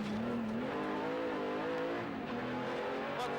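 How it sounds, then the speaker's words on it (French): A rally car engine revs hard at the start of the first special stage of the 2002 TAC Rally, a loud, sustained engine note climbing in pitch up close, with no talk over it. "Premier départ de la première spéciale, Jean-Marc met les gaz."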